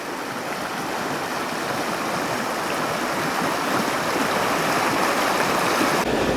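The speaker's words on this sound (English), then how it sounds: "going down these rapids." River rapids near Lake Michigan between Mackinaw City and Petoskey rush in a loud, steady, broadband roar that continues unbroken throughout, with no voices.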